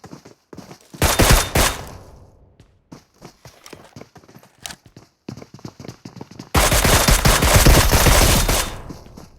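Shooter video game gunfire, in loud bursts of rapid shots: a short volley early on, scattered single shots, then a sustained heavy burst near the end.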